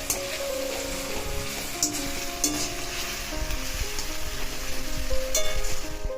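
Vegetables fry lightly in a pan with a steady, close sizzle that runs the whole time, with faint steady tones humming underneath and a few brief clicks.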